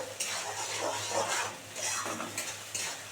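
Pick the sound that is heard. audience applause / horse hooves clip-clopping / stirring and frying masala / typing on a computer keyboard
stirring and frying masala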